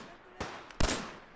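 Turret gunfire in Fallout 4, two sharp separate bursts about half a second apart, the second louder and closer, followed by a short fading tail.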